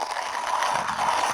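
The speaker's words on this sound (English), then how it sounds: "So I'm gonna grind up another 20 grams again. Same coffee beans." A manual hand coffee grinder crushes about 20 grams of coffee beans. It makes a steady, close-up grating and ratcheting crunch that runs evenly throughout with no talking.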